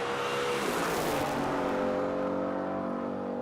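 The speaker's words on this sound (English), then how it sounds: "The 5-litre Mustang on the straight now." A 5-litre Mustang race car roars along a straight in a loud, sustained engine blast that swells, then eases as it pulls away.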